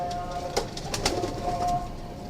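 A big-boned, long-necked pigeon gives soft, low coos close by in a short sequence of a few murmuring calls.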